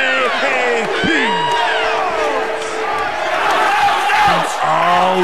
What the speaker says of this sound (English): the capacity crowd here in Raleigh, chanting in unison